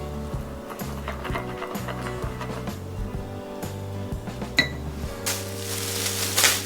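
A bowl of dressing made from grated ginger, minced garlic, a little bird's-eye chili, soy sauce, vinegar and sesame oil is stirred with a utensil, giving light clinks and scrapes over a steady low background.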